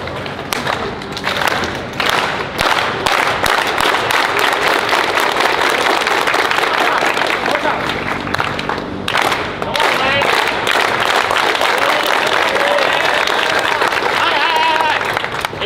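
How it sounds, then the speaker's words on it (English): A crowd of basketball players at AAU tryouts in Atlanta claps in a loud, rhythmic burst of applause with thumps in a gym, continuing steadily with brief pauses, while voices mix in. "Now clap it up with me."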